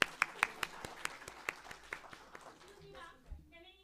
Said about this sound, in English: once again, a huge round of applause, please